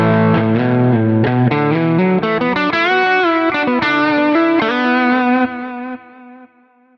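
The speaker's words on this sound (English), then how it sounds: "if I take off the overdrive pedal, the Marshall by itself is like this" Marshall amp model on a Quad Cortex with no overdrive pedal, playing a mildly distorted electric guitar lead line of sustained notes and bends that rings out and fades at the end, with no talking.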